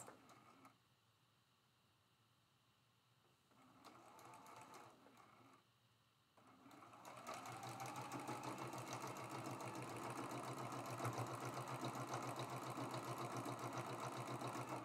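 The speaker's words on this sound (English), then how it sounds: "We're going to go ahead and sew these seams." A sewing machine stitches quilt block seams for a traditional Prairie Flower block, starting after a few quiet seconds with brief bursts, then running steadily and loudly with a fast mechanical rhythm.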